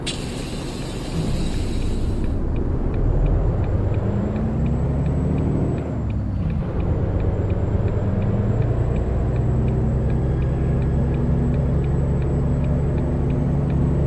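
Steady diesel engine rumble as an automatic truck pulls away, with a brief hiss early on and a smooth rise in engine tone, with no distinct gear changes.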